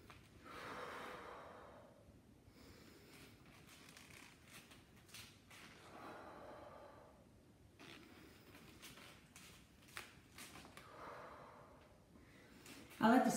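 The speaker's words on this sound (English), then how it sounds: "let's do 3 deep breaths" Three slow, deep breaths taken during a warm-up exercise, each a soft, airy inhale and exhale heard close but faint against near silence.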